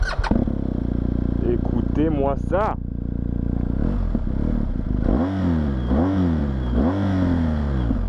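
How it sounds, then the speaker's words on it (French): BMW 1250 GS Adventure twin-cylinder engine idling at a standstill, then blipped in sharp revs that rise and fall, several in succession, loud and close while someone talks over it. "le bruit de ce bicylindre de chez BM"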